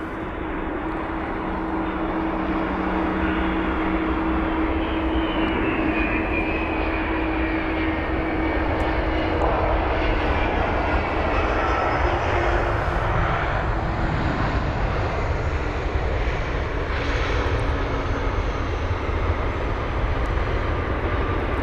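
Emirates Airbus A380 airliner at London Heathrow, a loud sustained engine roar and rumble that swells and holds steady for over twenty seconds, with no one talking.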